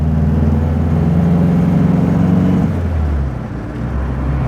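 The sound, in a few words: MG Magnette ZB engine pulling at low revs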